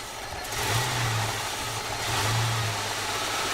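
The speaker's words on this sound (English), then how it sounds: "when I plug this vacuum, it should make the engine run worse" A 2000 Ford Mustang's 3.8-liter V6 idles roughly with vacuum applied to the EGR valve, a steady close engine drone that swells slightly in surges, heard alone without talk.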